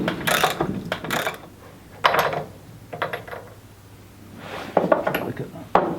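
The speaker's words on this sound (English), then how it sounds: "How to abuse cheap ratchets." A cheap ratchet wrench works a thread-locked, fine-thread bolt loose on a Mitsubishi L200 trayback, giving several bursts of loud clicking and metallic rasping close up, separated by quieter pauses.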